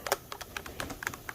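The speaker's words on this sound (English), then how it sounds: "I'm just gonna wipe the top of all my keys" Computer keyboard keys clatter as their tops are wiped clean after a WD-40 treatment, a quick irregular series of close plastic clicks and taps at low volume.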